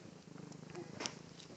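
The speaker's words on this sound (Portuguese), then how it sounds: "Quando eu faço muito carinho nele, ele fica fazendo puru" A pet cat purring while being stroked, a steady close rhythmic rumble, soft and continuous with no talk.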